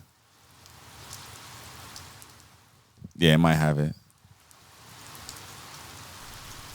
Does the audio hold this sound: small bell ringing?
no